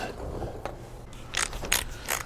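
A torque wrench ratcheting on a tie rod end of a 2017 Ford F350 4x4, a few close metallic clicks and rasps in short bursts after a quieter mechanical rattle.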